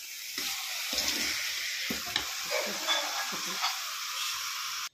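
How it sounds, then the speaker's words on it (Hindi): Grated coconut is stirred into sugar syrup in a pan for coconut barfi, a soft continuous sizzle with periodic scraping strokes of the spoon, close and fairly quiet. "कोकोनट को चाशनी के साथ अच्छे से मिक्स कर लीजिए।"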